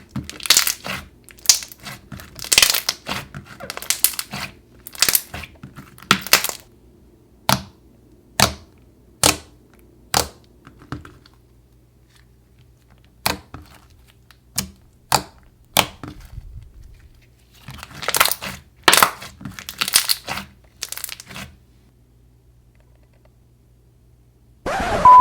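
Thick, glossy, bubbly slime squished by hand, a long run of wet pops and crackles coming in irregular bursts and single sharp snaps, close and loud, with no talking.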